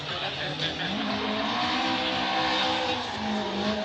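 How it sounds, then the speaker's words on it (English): A drift car with a 1.6-litre engine of around 170 brake horsepower screams at the rev limiter in second gear, the high strained engine note bouncing off the cutoff under crowd and track ambience, with tyre squeal mixed in. "The limiter screaming for third gear."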